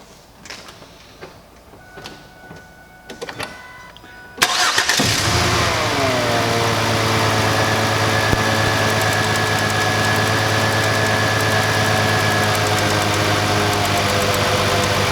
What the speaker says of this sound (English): Alright, Tammy, start it up for a moment.